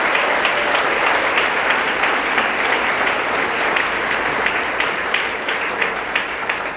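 A church congregation breaks into sustained, dense applause throughout, steady and loud with no voices rising above it.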